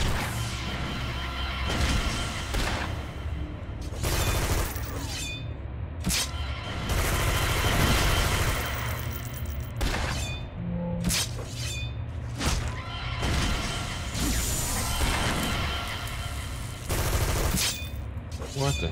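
Gunfire from the video game City of Villains fills the scene with dense, rapid bursts and sharp cracks, repeating in clusters over a steady background of game noise and effects.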